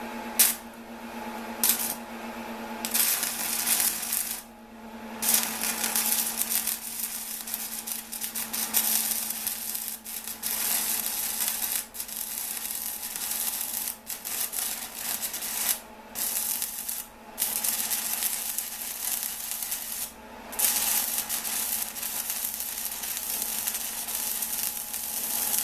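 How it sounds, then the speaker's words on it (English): A stick welder arc sizzles and crackles on dirty metal in a steady, loud, continuous hiss with brief breaks where the arc drops out, and no voices. "let's see if we can get an arc going here"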